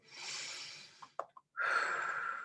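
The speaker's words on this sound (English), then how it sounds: "remember to do at least 3 deep breaths in through the nose" A deep breath drawn in through the nose during a vocal warm-up: a long airy inhale, a brief pause with small clicks, then another strong breath, close and alone.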